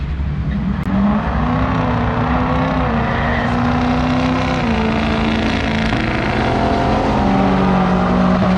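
A C8 Corvette races an F250 with a 6-liter engine on a quarter-mile drag strip, producing a loud, sustained roar of engines with rising and falling pitch, continuous and close, without talk.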